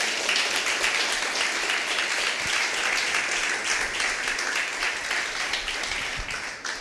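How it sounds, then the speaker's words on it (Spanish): A church congregation applauds steadily throughout, a dense, loud wash of clapping that holds for the whole stretch and tapers only slightly at the end. "Démosle un fuerte aplauso al Señor."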